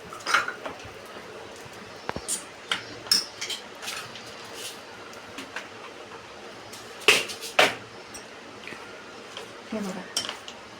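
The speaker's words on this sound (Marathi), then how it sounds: "आता हे बटाटे आपण पुन्हा मिक्स करून घ्यायचं" Potatoes are stirred in a cooking pan with a utensil, producing scattered clinks, scrapes and soft squishes at an uneven pace, while someone talks over the work.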